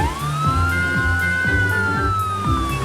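A toy police car siren wails up and down close by, with a repeating rhythmic electronic pattern underneath, loud and continuous.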